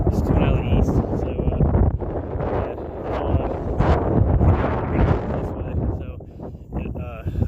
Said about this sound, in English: the wind, it's blowing pretty good right now